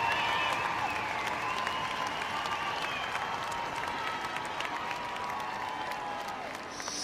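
Crowd applause and cheering at a women's rugby match between England and Wales, steady sustained clapping from a large stadium crowd heard from a distance, with some talk over it.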